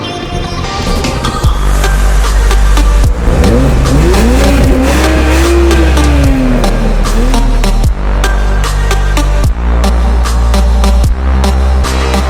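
A BMW 540i xDrive M Sport drives hard through a slalom, its engine loud and steady over a deep rumble, with rising and falling revs and tire squeal.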